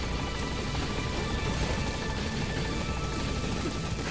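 A helicopter arrives at a landing zone in the video game Metal Gear Solid V, its rotor wash a dense, steady roar with a faint rapid chop. The sound stays loud and continuous with no voices.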